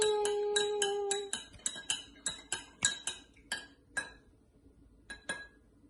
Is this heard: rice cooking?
no